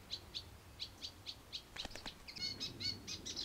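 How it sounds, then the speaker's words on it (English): Reed warbler singing among reeds, a run of quick, repeated chirpy notes at an even pace that breaks into a busier, scratchy chatter, faint and fairly distant with no voices. "The reed warbler."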